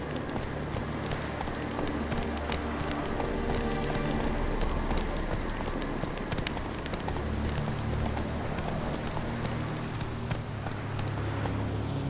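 A horse gallops in The Witcher 3: Wild Hunt, its hooves drumming a fast, steady clip-clop that runs unbroken for the full twelve seconds, with no voices over it.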